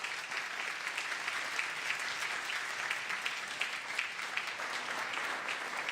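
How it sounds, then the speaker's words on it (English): A round of applause on the California State Senate floor for honorees, a steady patter of clapping hands from a moderate gathering, heard at some distance and fairly quiet. "Please give them all a round of applause"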